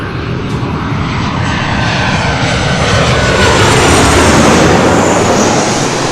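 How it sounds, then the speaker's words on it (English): An American Airlines Boeing 737-800 from Austin, Texas lands at LAX, a loud, close engine roar that swells slightly midway and stays dense and continuous to the end. "That was the flight coming in from Austin, Texas on the American 737-800."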